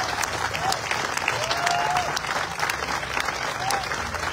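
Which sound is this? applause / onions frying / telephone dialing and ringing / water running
applause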